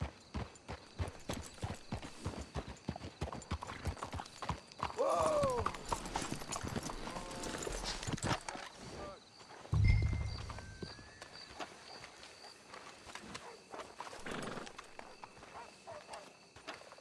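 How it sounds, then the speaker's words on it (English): In the Red Dead Redemption 2 video game, horses walk with steady clip-clopping hooves on the ground, and a whinny rises partway through. A voice speaks briefly over the hoofbeats. "Let's hitch your horses up ahead."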